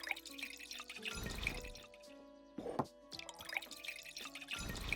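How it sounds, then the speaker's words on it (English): Wine being poured in the video game Tavern Manager Simulator, heard as game liquid and drip sounds against a tonal music bed, with a short gap near the middle before it resumes. "I'm too busy pouring wine"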